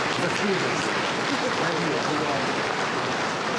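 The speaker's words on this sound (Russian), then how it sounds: "Громкие, но все-таки быстро смолкающие аплодисменты" Applause in a packed concert hall of several thousand as officials walk onto the stage ahead of two presidents, a dense, steady wash of clapping that stays loud throughout.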